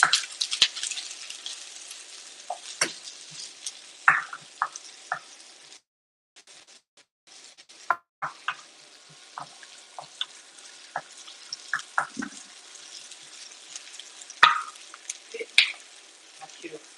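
Onions sizzle and fry in a pan while being stirred, a soft continuous crackle broken by scattered clicks and scrapes of the utensil, with a brief drop-off partway through; no talking.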